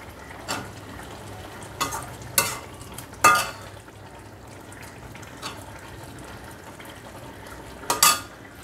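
Koi fish frying in a pan with chopped coriander: a steady low sizzle underneath, broken by several sharp clinks and scrapes of stirring, close and fairly quiet.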